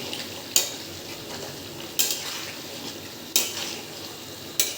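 Chicken dusted with garam masala powder sizzles gently in a pan while a utensil scrapes and clinks against it in four evenly spaced strokes, close and fairly clear.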